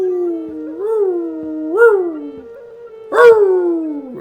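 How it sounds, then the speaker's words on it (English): A wolf-like animal gives three long, tonal howls, each rising and then sliding down, loud and clear with short pauses between them and the last one the strongest. "you just hear a howl"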